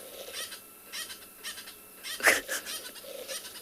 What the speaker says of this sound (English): I know, it's a leopard.